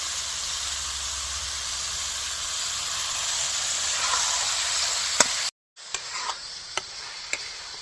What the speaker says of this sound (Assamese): মাংসটো আমাৰ ভালদৰে ভাজি লোৱা হৈ গ'ল